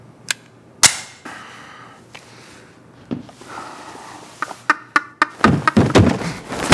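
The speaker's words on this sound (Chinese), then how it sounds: "气急败坏的他对着闵大校扣动扳机，但闵大校已经算出枪里已经没了子弹" In a Korean action comedy film scene, a pistol's trigger is pulled on an empty gun. Several sharp, dry clicks and knocks are spread through the moment, with a denser cluster of loud clicks near the end.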